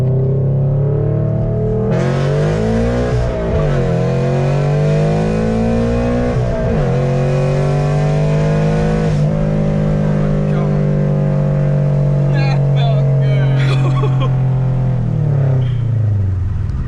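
A Toyota 86 sports car accelerates hard along a highway, its engine note climbing through repeated rising gear pulls before settling into a steady, loud drone close by, with brief talk near the end.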